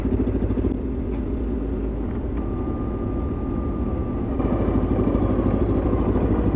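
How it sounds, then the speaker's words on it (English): A re-engaged winch pulls on a spruce tree, a loud, continuous low mechanical drone with a rhythmic rumble and a thin whine rising partway through, running without a break. "Really helps if you re-engage the winch."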